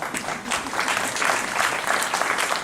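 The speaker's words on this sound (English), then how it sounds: "give you a round of applause for braving to be here tonight with us" An evening audience gives a round of applause to first-time attendees, a dense, continuous wash of clapping from many hands at moderate loudness, with no breaks throughout.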